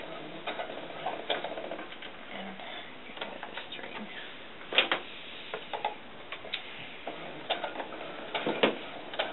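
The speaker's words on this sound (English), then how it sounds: "I'm going to set my machine in there, and I'm just going to sew a couple stitches" A sewing machine runs a few short bursts of stitches on fabric for a doll sun dress, with ticking, clicking mechanical patter that starts and stops close up. Quiet talk comes in between the bursts.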